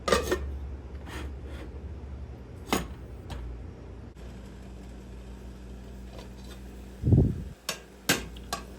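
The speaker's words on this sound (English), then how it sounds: "Just to make it faster, I'm going to put a lid on it." A lid goes onto a cooking pan with a couple of sharp metallic clinks and a rattle near the end, after a quiet stretch broken by a few faint, brief knocks.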